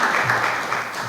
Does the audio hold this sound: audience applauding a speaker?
yes